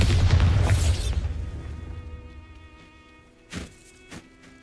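A Bombarda blasting spell in Hogwarts Legacy goes off as a loud, booming explosion that rumbles and fades over about a second, followed by two short, sharper thuds.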